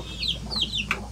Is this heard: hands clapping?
no